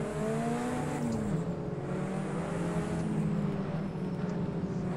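All-wheel drive race car engine in the Project Cars 2 video game, driven on snow without traction control, a steady loud engine drone with shifting pitch that runs throughout.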